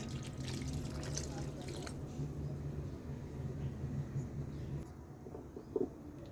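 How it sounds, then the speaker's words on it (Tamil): Water pours into a pot of chicken kulambu that already holds coconut paste, a steady liquid splashing and trickling close by that runs for most of the stretch and then quietens near the end. "தேவையான அளவு தண்ணி சேர்த்துக்கலாம்."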